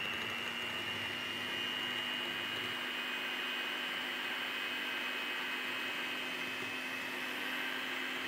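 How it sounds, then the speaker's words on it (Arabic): An electric mixer on its first speed whips chantilly cream in a bowl, giving a steady, even motor whir with a constant tone that runs unbroken throughout. "ومن بعد الخلاط الكهربائي في السرعة الأولى، يعني بروميير فيتاس."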